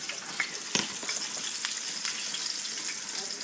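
Steady, bright sizzle of food frying in a pan, with a few sharp crackles and pops scattered throughout; no voices.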